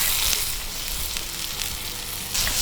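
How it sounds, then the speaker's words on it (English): Half a white onion browns in a hot pan, sizzling steadily and loudly up close with faint crackles and light stirring, no voices over it. "I'm gonna throw some of these onions in, just brown them up a little bit"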